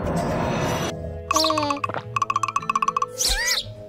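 A small video game bird gives a sequence of bright synthetic chirps and tweets, with a rapid run of repeated ding-like notes followed by rising whistles, loud and close against an earlier stretch of background noise.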